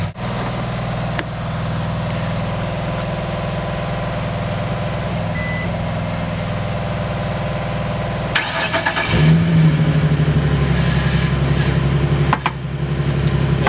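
A Ford Mustang with damage from a collision runs at a steady idle for several seconds. Its engine note then swells with a brief rise in revs near the end, loud and close, with no voices.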